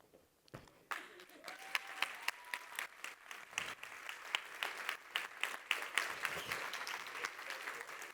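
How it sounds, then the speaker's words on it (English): Audience applause after a speaker finishes a talk at a live event, starting with a few claps and swelling into steady, moderately loud clapping from a full room. "Enjoy the applause"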